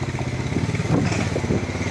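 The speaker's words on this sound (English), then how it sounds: "Now the girls are gonna bring their four-wheeler too." A four-wheeler ATV drives across a new bridge laid with shale rock. Its engine rumbles close by and steadily, with a throbbing, pulsing note and some rattling clatter, and no one speaks over it.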